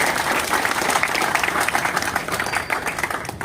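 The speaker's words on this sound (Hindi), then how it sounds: "इसलिए इनके लिए बहुत ज्यादा तालियां" A large hall audience applauds loudly at a talk, a thick, continuous roar of clapping hands that stays strong throughout and eases slightly near the end.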